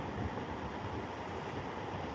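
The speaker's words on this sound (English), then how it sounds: "Yeah, it's pretty windy out here." Steady wind gusting across an open lake shore at a Pennsylvania trout-fishing resort, a continuous broadband rush buffeting the microphone with no pauses, loud and close throughout.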